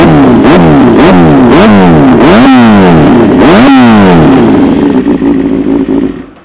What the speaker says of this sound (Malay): kita start bagi korang dengar sound ni.